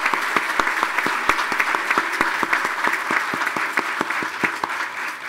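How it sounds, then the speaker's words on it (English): A university crowd at a stadium naming event applauds administrators, loud sustained clapping with distinct sharp hand claps close by standing out over the dense roar. "let us give you a round of applause"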